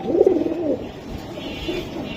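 Pigeons coo close by in a low, rounded call that rises and falls, followed by softer murmuring coos, with no voices over them.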